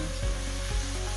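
A pot of Jamaican land crab curry simmers with a steady sizzle and bubbling, carrying soft periodic low thumps.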